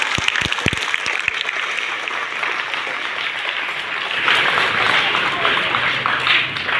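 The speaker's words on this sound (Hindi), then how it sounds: "कोई से ताली बजाओ मम्मी के लिए" An audience at a certificate distribution event in Bhilai breaks into applause, a few sharp claps at first, then a dense, sustained patter of many hands that swells louder toward the end, with a voice talking underneath.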